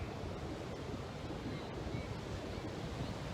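Ocean surf on the shore washes in as a steady, full rush of breaking waves with a light breeze, continuous and fairly soft, with no voices.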